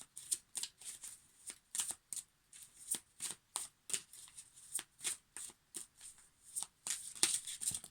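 Oracle cards shuffled by hand in a quiet room, a steady run of crisp, rapid riffles and flicks repeating throughout, close and clear with no talk.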